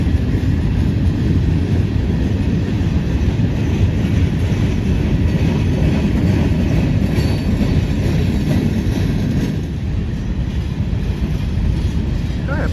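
A CSX freight train of boxcars rolls steadily past close by, a continuous loud rumble of wheels and rattling cars with faint rail clatter throughout and no pauses.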